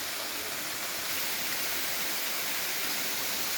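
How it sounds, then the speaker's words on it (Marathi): Constant rushing roar of a monsoon waterfall at Agashiv hill, Karad, a broad steady wash of falling water with no breaks and no voices. "असे अनेक छोटे मोठे धबधबे इथे इथे आहेत"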